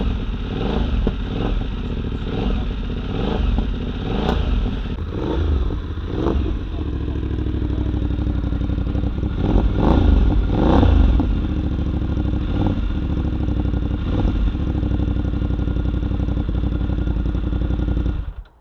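A Voge 800X Rally or 900X motorcycle engine running close by, a raspy, steady mid-pitched drone with repeated revs rising and falling, and brief faint talk in the background.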